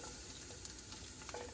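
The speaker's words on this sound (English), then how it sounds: "Just heat up the olive oil in the pan. Now we're gonna add the garlic." Garlic hitting hot olive oil in a skillet while shrimp and chorizo cook, giving a steady, close, broadband sizzle with faint stirring clicks and no talking.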